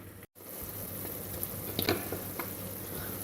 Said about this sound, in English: Basic form with the sauce, which is bubbling away here.